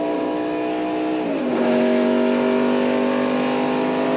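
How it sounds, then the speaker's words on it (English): A race car at the 1993 Daytona 500 accelerates out of the pits, its engine tone rising sharply partway through and then holding a loud, sustained high-revving roar, close by with no voices. "Look at Allison getting up to speed coming out of the pits"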